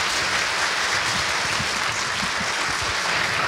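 An audience at a 2018 year-end foundation gathering applauds in a steady, even wash of clapping that is dense and moderately loud throughout, with no voices over it.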